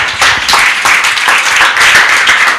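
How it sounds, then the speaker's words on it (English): Loud nearby audience applause at a conference opening ceremony, rapid clapping that swells and eases in waves throughout. "We give her an Obama clap until she sits down"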